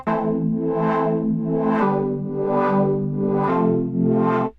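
White noise is routed through a fluttering filter in the Vital wavetable synth alongside a buzzy sustained tone, swelling and dipping in about five even, rhythmic sweeps, with the pitch stepping between chords.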